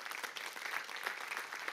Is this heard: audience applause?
yes